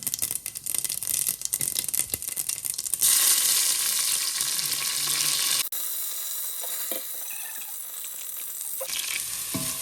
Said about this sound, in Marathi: आता मस्त फोडणी दे जिरी मोरी फोडणी दे